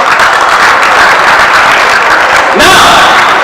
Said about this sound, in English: Let's clap for Abraham Lincoln.